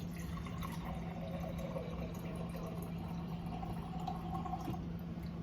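Water poured from a glass into a mixing container while making playdough, a steady, soft liquid trickle that runs continuously at moderate closeness with no talk over it.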